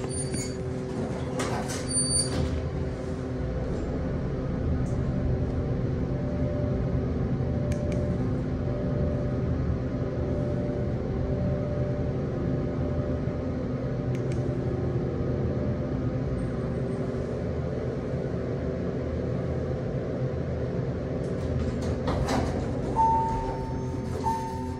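A MontgomeryKone hydraulic elevator motor at a JCPenney store in Park Meadows Mall runs with a steady, loud, even hum and whine, with a few faint clicks and a brief tone near the end.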